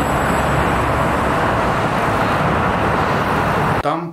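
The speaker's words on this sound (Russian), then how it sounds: "Там постоянный поток машин" Steady, dense roar of constant traffic on a main multi-lane highway in Dubai, a continuous wash of engines and tyre noise close by that cuts off abruptly at the end.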